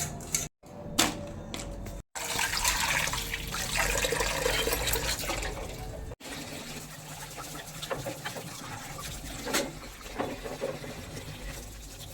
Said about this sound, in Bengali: চলো এবার আমি কাপ টিসগুলো ধুয়ে ফেলি।